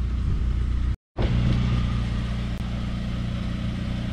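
Saab 9-3 Convertible engine fitted with a Viggen exhaust muffler, a steady close idle rumble with a brief cut near one second before the same even drone carries on, no talking.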